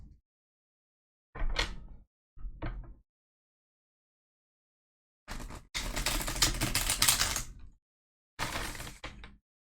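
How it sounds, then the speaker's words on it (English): Tarot cards are shuffled in several crisp riffling bursts, short ones first, then a longer flurry and a final quick riffle, separated by silence. "I'm going to shuffle. And we're going to go ahead and pull these cards."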